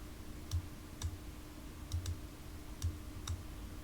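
A computer mouse clicking while someone works through an operating system's setup: about half a dozen sharp, faint clicks, some in quick pairs, spaced out over a quiet steady hum with no talking.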